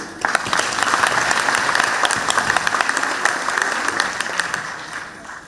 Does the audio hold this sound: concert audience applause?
yes